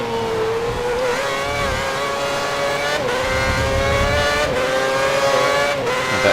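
A Formula 1 race car in the F1 2010 video game, driving at Montreal, holds a loud, steady high-pitched engine whine that rises and dips slightly as gears shift, with no voices.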